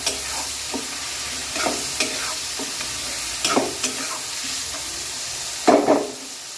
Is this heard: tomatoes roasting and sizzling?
yes